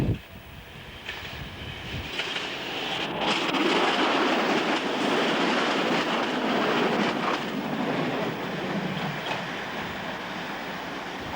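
A train on the Bedford line runs past staggered platforms at a level crossing station, a broad rumbling roar that builds in the first seconds and holds steady with faint rhythmic rail clatter, no voices.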